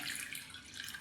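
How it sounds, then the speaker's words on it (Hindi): Water pours steadily from a tap into a cooking pot of washed masoor lentils and peeled potatoes, a continuous bright splashing rush heard close up without talk. "इसमें हम लोग डाल देते हैं पानी"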